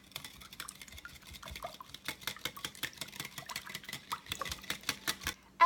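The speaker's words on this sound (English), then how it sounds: "just going to whisk these together" A whisk beats wet ingredients with clear vanilla in a bowl for baked donuts, giving quick rhythmic metallic taps against the bowl that get steadier and louder, close and quiet.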